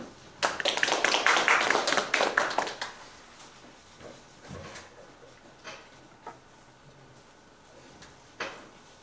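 Audience applause breaks out in a lecture hall for a Hongshan culture lecturer, a dense burst of clapping for about two seconds that fades into scattered claps and room noise.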